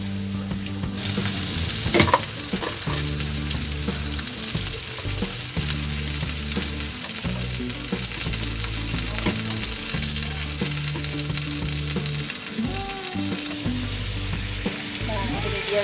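Water spinach stir-frying in a pan hisses with a steady, close sizzle, while repeated scrapes and tosses of a spatula run through it and a low background tone hums beneath.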